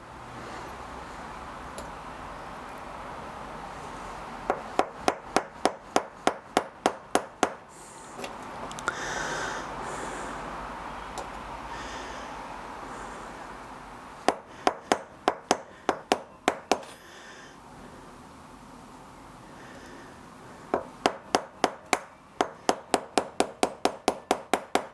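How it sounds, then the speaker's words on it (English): Three bursts of rapid, sharp hammer taps from a small children's woodworking hammer striking a stuck part on a Kawasaki mower engine, each run of about eight to ten blows, separated by quieter pauses with faint handling noise. "I've got my kids' woodworking tool hammer."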